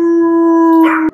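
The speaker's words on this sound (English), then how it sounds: "Zuko, give us a howl" A rescue pitbull lets out a single close, loud, steady howl held for about a second before cutting off sharply.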